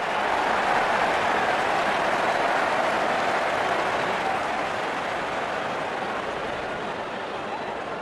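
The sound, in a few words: cricket crowd applauding a batsman's fifty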